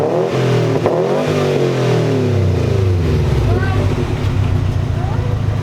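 Revving of a 2019 Subaru STI fitted with a Blox axle-back exhaust, loud and close, with rising and falling throttle blips that settle into a deep burbling idle while people talk nearby.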